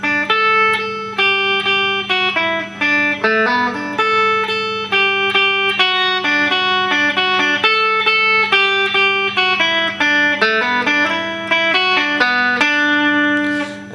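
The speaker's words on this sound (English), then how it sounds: "alright, now the first lead part is going to sound like this." Electric guitar plays a lead part, a steady run of clean, singing single notes and short melodic phrases over a constant low hum, close and loud, with no voices.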